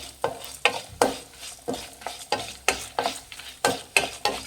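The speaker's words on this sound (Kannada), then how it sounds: "ಮೀಡಿಯಮ್ ಫ್ಲೇಮಲ್ಲಿ ಇಟ್ಟು ಇದನ್ನು ಹುರಿಬೇಕಾಗತ್ತೆ ಇಲ್ಲಾಂದರೆ ಚೆನ್ನಾಗಿರಲ್ಲ ಮಸಾಲೆ" Masala spices are roasted in a pan over a medium flame for idli sambar, with about a dozen rhythmic scraping stirs over a soft frying hiss, close and with no voices.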